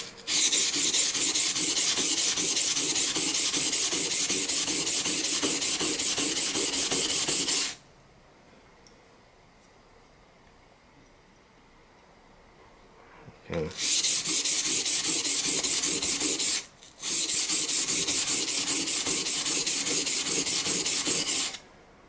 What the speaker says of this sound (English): with a 200 training grit, I made a flat surface like this, and I'm going to sharpen this again on a 1000 sharpening